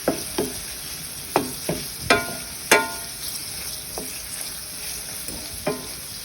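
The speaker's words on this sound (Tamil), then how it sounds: "நல்லா வதக்கின பிறகு இதில் நாம் நறுக்கி வச்ச காய்கறியை சேர்த்துடலாம். இதை நல்லா ஃப்ரை பண்ணலாம்." Chopped vegetables for a coconut vegetable stew frying in a pan, with soft sizzling under a series of sharp spoon stirs and scrapes, several clustered close together near the start and others more spaced out, and no talking.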